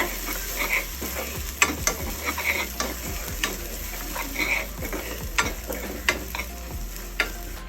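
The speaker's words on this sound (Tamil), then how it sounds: "இது நல்லா தேங்காய் வந்துட்டு நல்லா வறுபடணும் அந்தளவுக்கு என்னென்ன வதக்கிடுங்க" Grated coconut dry-roasting in a pan for Kerala erissery, stirred with a utensil: steady low crackle and sizzle broken by repeated sharp scraping strokes against the pan, close and moderately loud, no voices.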